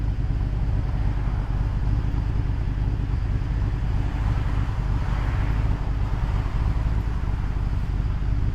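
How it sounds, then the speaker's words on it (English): A 1966 Corvette idles steadily after a fuel injection conversion, its low, even engine rumble holding constant and close throughout with no revving. "We're just sitting here idling."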